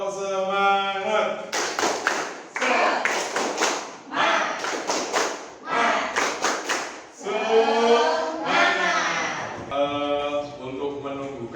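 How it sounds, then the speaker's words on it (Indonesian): A classroom of pupils performs a rhythmic spirit clapping chant, sung or chanted phrases alternating with sharp patterned claps, loud and close throughout. "Oke, tepuk semangat"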